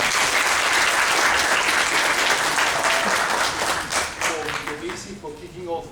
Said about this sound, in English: A round of applause for Mcebisi